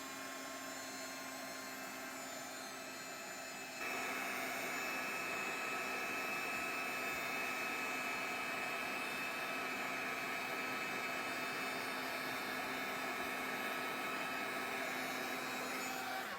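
A heat tool blows a steady, loud whir over inked paper flowers on cardstock. The pitch steps up partway through and then holds constant, with no talking.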